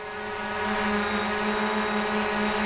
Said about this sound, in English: As you can tell, the drone is flying just above my head right now